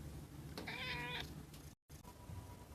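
A cat lets out a single clear, drawn-out meow close by, followed by quiet rustling.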